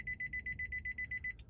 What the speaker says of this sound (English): That's the buzzer sound that the computer is telling me.